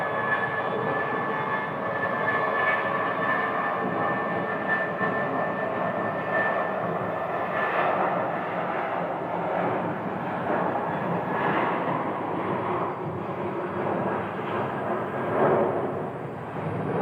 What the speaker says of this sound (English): let's take a look at American flight 570